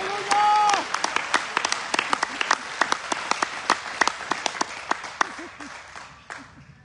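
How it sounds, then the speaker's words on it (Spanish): A church congregation claps loudly during a Spanish-language evangelical service, a dense run of sharp hand claps that thins out toward the end, with voices and a shout mixed in. "Denle un aplauso fuerte al Señor."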